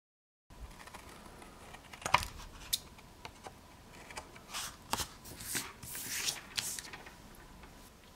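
Scissors snip around a pencil-traced paper template for a DIY mini album pocket page, with a string of close, crisp cuts and rustling paper, some sharper snips standing out, and no talk.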